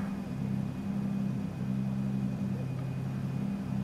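A BMW engine in the mobile game Torque Drift gives a steady droning hum with small shifts in pitch. It stays moderately loud and even, with no voice.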